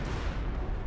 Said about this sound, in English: 20 centimeter rocket barrage got summoned somewhere